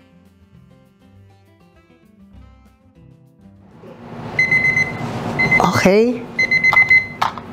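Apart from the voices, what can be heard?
kitchen timer alarm ringing after 10 minutes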